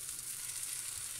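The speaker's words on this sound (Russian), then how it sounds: "Здесь еще продолжают жариться оладушки" Steady, fine sizzling of zucchini fritter batter frying in a hot pan, a continuous crackly hiss with no voices.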